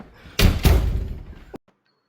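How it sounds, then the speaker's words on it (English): A door swings shut with two heavy slams close by, followed by a brief rattle and then near silence. "Go ahead, close your door"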